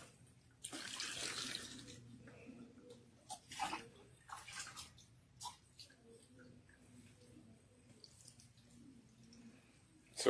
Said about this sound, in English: you rinse nicely. You rinse thoroughly.